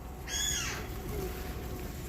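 Near the frosty waterfront in Limerick in November, a single bird call, among gulls and pigeons, rings out briefly and falls in pitch, then fades into a low background hum.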